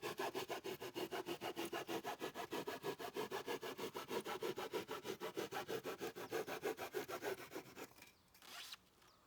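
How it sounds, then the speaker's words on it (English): A coping saw cuts through styrofoam cooler lids in steady, rapid back-and-forth strokes, a rasping rhythm of about forty strokes up close that stops near the end, leaving a couple of brief scuffs. "They simply need to have their longest edge trimmed by about a centimeter using a coping saw."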